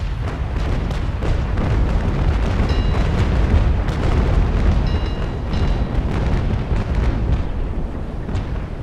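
Naval cannon fire in the sailing warship game Naval Action: a continuous rumbling barrage of booming blasts, dense and loud throughout with no gaps, heavy low-end roar layered with sharper cracks.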